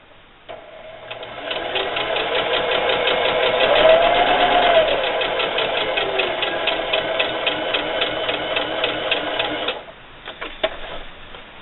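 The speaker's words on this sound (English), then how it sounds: "Now I'm going to continue to sew up this ear." A sewing machine stitches up a fabric bunny ear, with a fast, even mechanical whir that runs loud and steady for about nine seconds before stopping, then a few small clicks.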